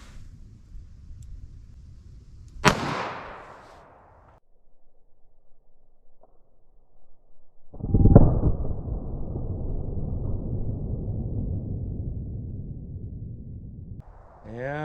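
A .38 Special lead hollow point round fired into gel gives one sharp, loud report that decays quickly, followed a few seconds later by a second heavy broadband blast with a long rumbling tail.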